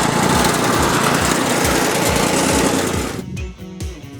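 A Royer 112 loading machine runs on its gasoline engine with a fast, buzzing, regularly pulsing drone. The sound is loud and close, then drops and sputters near the end.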